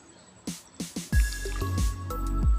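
Bamboo shoot curry with loofah gourd being stirred in a pot: several wet squishing, sloshing stirs with liquid drips, close and fairly loud, then a thicker bubbling churn.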